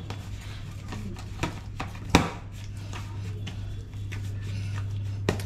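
A knife cuts through dough lightly greased with ghee, giving several separate taps and knocks on a board. One firm chop stands out midway, over a faint background hum, and nobody speaks.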